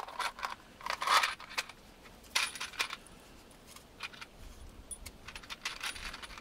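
Small metal clinks and jingles from handling a batch of 2.5 inch wood decking screws, scattered light rattles in short bursts, close and fairly quiet, no speech.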